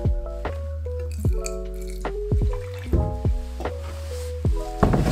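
Two-stroke oil pouring and dripping into a gas container for a Yamaha Riva Razz scooter, with close, wet drips and squishy glugs in an irregular rhythm, no talk.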